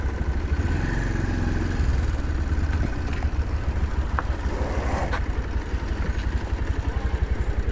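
A food delivery motorcycle's engine runs steadily at a low, close, even rumble through the whole stretch, with a few faint clicks and short tones over it.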